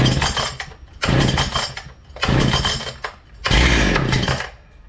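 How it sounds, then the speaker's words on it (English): Makita concrete saw with a rebuilt engine, decompressor on and choke fully closed, pulled to start: four loud rasping bursts from the pull cord and a coughing engine, each about a second long, up close. "Put on decompressor and choke all the way. Choke all the way and pull."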